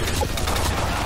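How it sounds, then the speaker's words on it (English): Dense, continuous gunfire from a player shooting in a video game, a loud, close crackle of overlapping shots that runs without a break. "He's shooting!"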